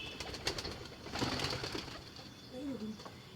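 Pigeons coo in a domestic loft or rooftop coop, soft low murmuring calls repeating near and moderately loud against a steady background hiss, with a faint flutter of wings.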